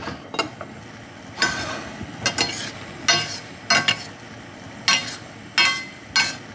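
Cheese gnocchi cooking together in a pan of butter and sage sauce, giving repeated bursts of sizzling and scraping as the pan is stirred or shaken, about a dozen uneven surges over a quiet background.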